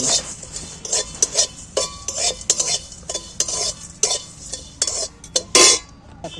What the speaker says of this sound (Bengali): এইটা একটু শুকনো কোড়ায় ভালো করে নেড়ে চেড়ে ভেজে নেবো